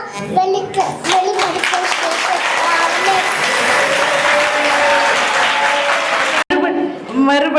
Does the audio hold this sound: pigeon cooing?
no